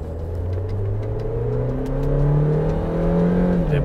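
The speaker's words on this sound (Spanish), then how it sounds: "Va subiendo las revoluciones progresivas" A Suzuki Jimny 5-door 4x4 is put in Drive and floored at full throttle, its engine droning loud and close as the revs climb steadily in one smooth, rising whine with no shift, and no one speaks.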